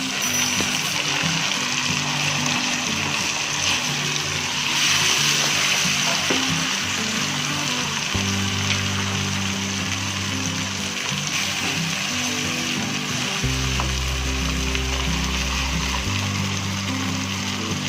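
Green beans fry in hot ghee with spices in a pan, sending up a loud, steady sizzle and crackle that carries on throughout, with a low hum underneath and no talk.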